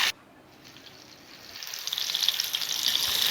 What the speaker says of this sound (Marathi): त्यासाठी पॅनमध्ये थोडंसं तेल घातलं आहे आणि हलकंसं जिरं आणि लसूण ठेचून त्यात घालायचं आहे.